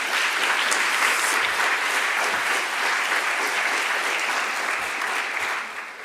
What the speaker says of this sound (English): the person leading the applause was Richard Sully